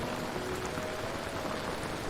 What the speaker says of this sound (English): Rain falls more softly here, cushioned by the thick canopy above.